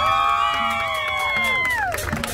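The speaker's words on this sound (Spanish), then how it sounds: "¡Aplausos para Chendo!" A crowd at an outdoor dance contest in Plaza Libertad cheers and whoops for a winner, steady loud shouting with a few sustained yells that fade near the end.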